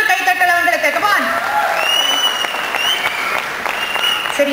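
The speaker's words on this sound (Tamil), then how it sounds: "ரசிகர்களே இன்னொரு கைத்தட்டல் அவங்களுக்கு." Audience applause at the Mellisai Maalai light-music concert, a steady dense roar of clapping from the crowd that fills the whole stretch, with faint musical tones running underneath.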